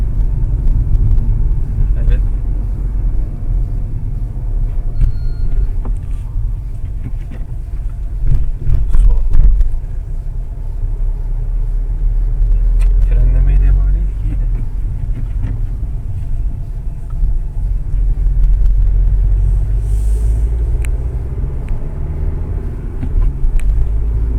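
A Fiat Egea Hatchback engine rumbles steadily from inside the cabin, with a low road drone and a brief rise in power as it picks up speed.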